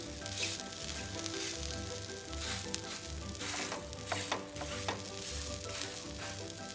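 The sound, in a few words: tomato rava omelette roasting on the second side, pressed down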